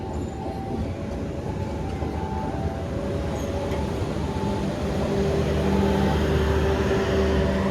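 The Argo Wilis passenger train, carrying a panoramic car on its route to Bandung, runs with a steady, loud rolling rumble and wheel noise that holds throughout and swells slightly near the end.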